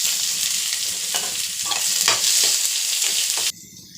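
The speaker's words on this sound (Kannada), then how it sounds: "ಈರುಳ್ಳಿ ಕಟ್ ಮಾಡಿ ಇಟ್ಕೊಂಡಿರೋದು ಹಾಕ್ಕೊಂಡಿದ್ದೀನಿ." Chopped onions and a green chilli sizzle loudly in hot tempering oil, stirred with a few scraping strokes, before the sound cuts off abruptly near the end.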